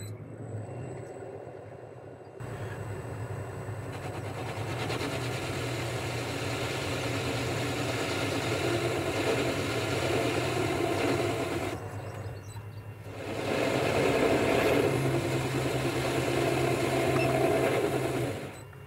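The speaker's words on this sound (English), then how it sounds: "Take the sharp edge off the corner, just making an undercut" A metal lathe cuts a thread undercut and takes the sharp edge off a part's corner, making a steady mid-level machine hum that grows louder and rougher toward the end.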